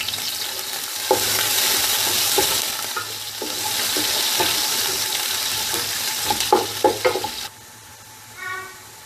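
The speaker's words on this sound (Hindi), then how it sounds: "प्याज को इतना भूनना है कि ब्राउन हो जाए।" Onions fry in hot ghee and oil, a loud continuous sizzle with stirring scrapes and clatters of a spoon against the pot, then the frying drops away abruptly near the end, leaving quieter background.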